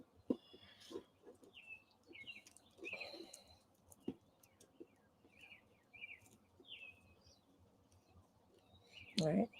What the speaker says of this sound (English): You guys can hear the birds.